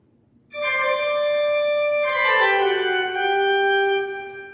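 A church pipe organ at First Christian Church in Winder plays a Bach toccata and fugue: loud sustained chords enter, then shift to a new chord partway through and hold before fading.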